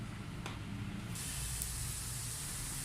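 Sausage pieces coated with chilli powder sizzle in hot oil in a pan, giving a steady, close hiss that carries on throughout with no voices.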